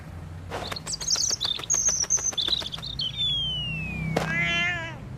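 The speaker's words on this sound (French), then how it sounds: "il y a un petit oiseau qui est tombé du nid" A small bird fallen from its nest chirps in quick, high, repeated cheeps and thin whistles, fairly close and clear over faint background noise, ending with a brief high squeal.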